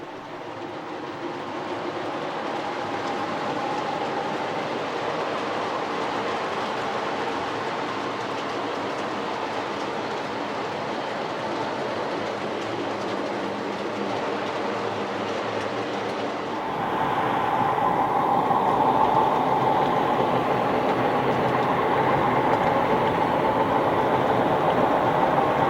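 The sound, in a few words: model trains running around the horseshoe curve layout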